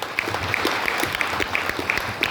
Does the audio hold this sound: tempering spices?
no